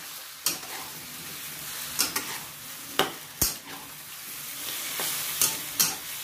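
Cauliflower stir-fried with soy sauce and oyster sauce sizzles in a hot pan as a spatula scrapes and tosses it in irregular sharp strokes, close and clear, with no speech.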